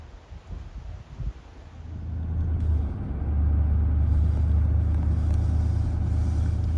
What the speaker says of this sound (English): We are taking a drive up to Cameron Lake.